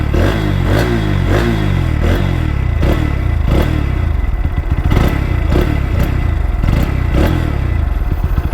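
A 2023 Bajaj Pulsar NS160 motorcycle engine idles loud and close, with a steady low rumble and repeated throttle blips rising and falling roughly every second, no voices.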